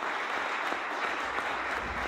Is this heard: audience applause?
yes